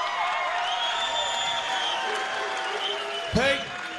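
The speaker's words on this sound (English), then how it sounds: "Give him one more round of applause." Crowd applause and cheering after a boxing knockout win, spread across the venue under a steady announcer's voice, with a sharp loud thump near the end.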